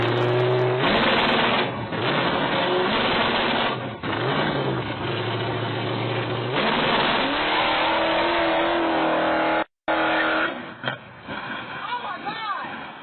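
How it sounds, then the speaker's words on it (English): A Ford Mustang pulls away on a residential street, its engine droning and revving loudly and steadily close by, with a brief dropout near the end, as voices talk over it. "The buyer is inside the Mustang about to drive off."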